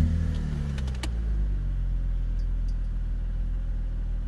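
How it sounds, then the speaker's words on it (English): A BMW Z4 engine turns over and settles into a steady, close idle rumble, with a few brief clicks near the start and no talking. "I'll just start the car for you in a minute."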